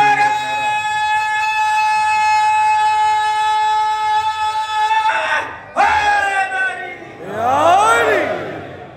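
A crowd at a religious gathering shouts a loud, unified slogan response in call-and-response fashion, a sustained chanted tone breaking into a few swelling roars of massed voices toward the end.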